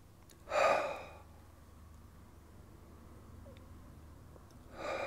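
A person doing a lying hip stretch takes deep breaths: a strong inhale or exhale near the start and another at the end, close and soft, with quiet room tone between.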